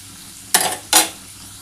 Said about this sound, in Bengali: আমার কিন্তু পেঁয়াজ রসুন আদাটা মোটামুটি ভাজা হয়ে এসছে।